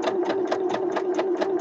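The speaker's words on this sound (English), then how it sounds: "So I'm sewing my outer fabric at the minute" A sewing machine stitches through outer fabric in a steady, quick rhythm of about eight even mechanical pulses, close and fairly quiet.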